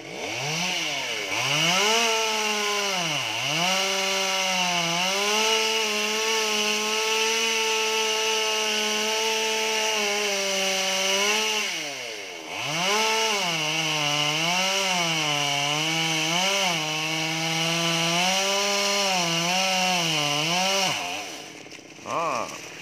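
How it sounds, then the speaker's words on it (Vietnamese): A chainsaw cuts through a tall coconut tree trunk, with the engine droning loudly and steadily, its pitch rising and falling as the chain bites and eases off, close up throughout. "Đó, bắt đầu anh cưa."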